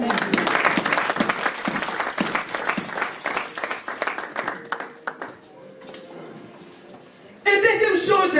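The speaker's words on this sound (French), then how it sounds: "Est-ce qu'on peut applaudir?" A congregation applauds at a French-language church service, dense clapping at first that thins into scattered claps, then a pause before loud sound returns at the end.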